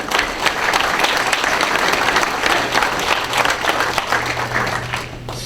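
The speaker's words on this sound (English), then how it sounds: "this deserves a round of applause" Loud, sustained applause from a crowd at an entertainment show honoring a Shriners ambassador, continuous dense clapping that eases slightly near the end.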